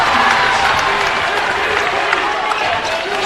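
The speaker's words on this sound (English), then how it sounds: "Huge crowd. Very loud in here." Loud, continuous crowd roar fills an indoor gym at a Cardinal Newman vs Montgomery high school basketball playoff championship game, with a commentator's voice running over the steady noise.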